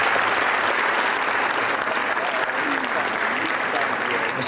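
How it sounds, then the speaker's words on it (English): Sustained audience applause from a crowd, a thick, steady roar of clapping that holds at an even level throughout with no voices on top. "So please give everybody here a round of applause"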